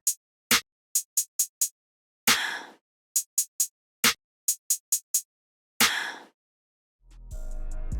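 Breathy percussion hits in a weird trap-style beat, short airy bursts repeating in a syncopated pattern, landing just after each clap, with longer noisy swells between, ending on a sustained low tonal sound.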